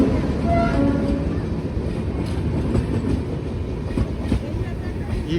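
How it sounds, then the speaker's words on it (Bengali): Vistadome train on the Araku line rolling into a station around a mountain bend, a steady close rumble of wheels and carriage noise with faint clacks and squeals, alongside some background voices. "এই স্টেশনে ট্রেন ঢোকাটা ইটসেলফ কি সুন্দর দেখুন, পাহাড়ের একটা গোটা বাঁক কাটিয়ে ট্রেনটা ঢুকছে"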